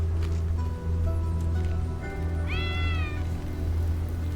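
A single drawn-out cat meow rises clearly mid-clip over a steady low hum, with faint rustling around it.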